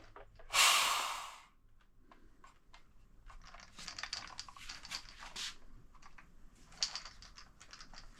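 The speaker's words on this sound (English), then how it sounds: "oh, here's your pressure relief" A sharp, loud hiss of pressurized air bursts briefly from the pressure relief valve of a Marolex Ergo Acid 1000 hand sprayer near the start, followed by quieter handling clicks and faint rustling.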